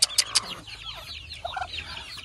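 Desi chickens, parent birds on a farm, cluck and squawk nearby, opening with three sharp loud calls followed by softer overlapping clucks and murmurs.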